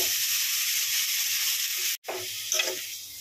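Chhana, cottage cheese, sizzles and is stirred in a hot wok; a loud, steady hiss of frying continues throughout, broken by one brief pause.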